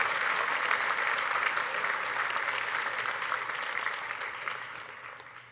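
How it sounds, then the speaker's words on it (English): Sustained applause from a crowd for graduating seniors at a high school class night ceremony, dense steady clapping that slowly fades toward the end. "A round of applause for these seniors."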